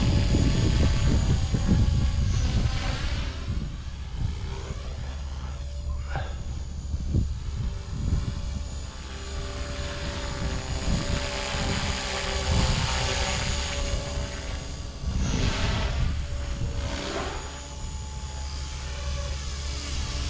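Fusion 180 RC helicopter hovering upside down outdoors after a year and 100+ flights, a constant whining rotor and motor drone with wavering pitch, close and steady throughout with no talk.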